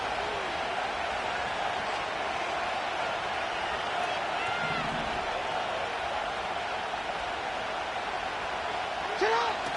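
Steady roar of a football stadium crowd during a Desperados vs Jaguars game, loud and continuous throughout with a few faint whistle-like tones rising above the din.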